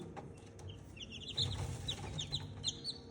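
Miniature chickens clucking softly in a coop, several quick high chirps and clucks over low rustling background noise, faint and close.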